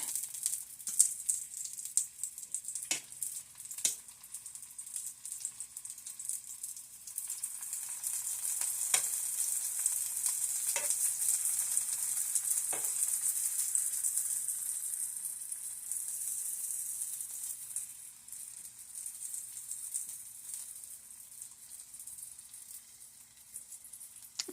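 Sausage sizzles in oil in a frying pan with a steady, close crackling hiss that swells through the middle and eases toward the end, punctuated by a few sharper spits and pops.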